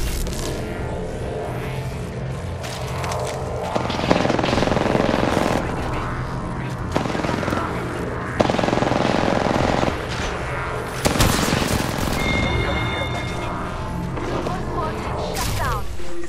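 Heavy automatic gunfire in the battle royale shooter Apex Legends: loud, sustained bursts of rapid fire with short gaps between volleys, mixed with impact and mechanical clatter and voices talking.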